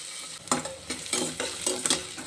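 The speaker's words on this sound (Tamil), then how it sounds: "இந்த கருவேப்பிலை போட்டுக்கிறோம் இதெல்லாம் சேர்ந்து நல்லா வதங்கி வரணும்" Onions and curry leaves sauté in a pan, with a close, steady sizzle broken by several sharp scraping strokes as a spoon stirs against the metal, and no talking.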